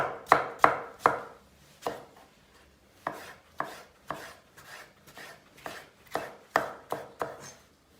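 Onions are chopped with a knife on a board for a bean dish, with a dozen crisp, close knife strikes landing in an uneven rhythm and no one speaking.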